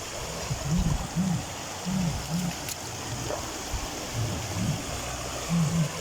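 A strong river current rushes at Daraitan in Tanay, a loud, steady broadband roar filling the whole clip, with faint human voices murmuring underneath.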